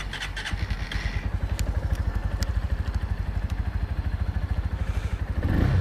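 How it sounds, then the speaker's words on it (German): A Motron Revolver 125 motorcycle engine starts and settles into a steady, loud, close idle with a rapid even thumping pulse, revving slightly toward the end; no talking. "können es ja gleich mal anschmeißen. Dann hören wir uns mal kurz den Klang an."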